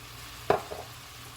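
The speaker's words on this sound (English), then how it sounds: "Just gonna stir it" A spoon stirring Cajun shrimp with garlic, onion and a little sugar in a pan, one short scraping clatter followed by a faint second touch over a low background hum.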